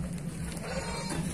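Sheep bleating amid a livestock market in Lampung, with jumbo sheep and goats for sale; a steady busy murmur of animals and crowd runs throughout, fairly close and continuous.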